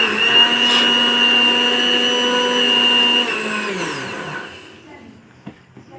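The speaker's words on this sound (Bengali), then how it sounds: "আমগুলো মধ্যে একটু দানা দানা ছিল, তাই মিক্সিতে একটুখানি পেস্ট করে দিচ্ছি।" An electric mixer grinder whirs at high speed, loud and steady, blending grainy mango into paste, then the motor's pitch sags and winds down to a stop, leaving a few faint clicks.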